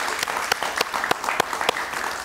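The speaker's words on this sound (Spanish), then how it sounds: "Un aplauso para ella, por favor." Studio audience applauding a famous astrologer on a television interview show, a steady dense patter of clapping with a few sharper claps standing out, fairly close and loud throughout.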